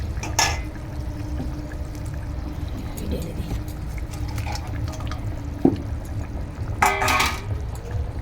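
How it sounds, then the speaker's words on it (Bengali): Pieces of fish slide into a pot of boiled potatoes in a simmering curry over a wood fire, with a few close wet splashes and sloshes over a steady low bubbling. "তো মাছগুলো এবার আমি দিয়ে দিচ্ছি"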